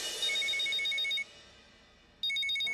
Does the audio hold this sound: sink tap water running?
no